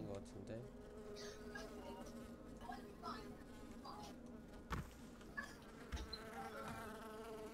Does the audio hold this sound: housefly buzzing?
yes